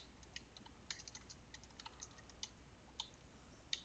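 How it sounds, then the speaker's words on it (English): Steady typing on a computer keyboard while writing a Python script, light close key clicks in an uneven rhythm with occasional louder strokes over a faint hiss. "And here we can start typing our script."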